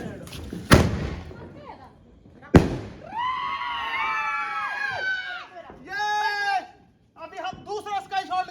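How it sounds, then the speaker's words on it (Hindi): Sky shot fireworks on Diwali night: two sharp loud launch bangs, each followed by rising whistling, crackling bursts with voices and a goat-like bleat mixed in nearby. "धमाका कैसे होगा कि सबसे पहले हम लगाने वाले हैं एक स्काई शॉट।"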